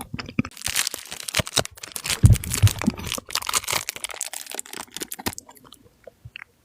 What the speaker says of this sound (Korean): 딸기 딸기를 먹어보겠어